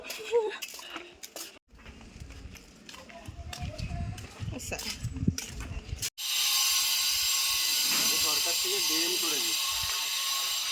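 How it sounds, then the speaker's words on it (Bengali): A pressure cooker cooking meat lets out a loud, steady, hissing steam whistle in the second half, after a stretch of indoor talk and clatter. "পিঠার মাংসটা এখানে সিটি পড়ছে"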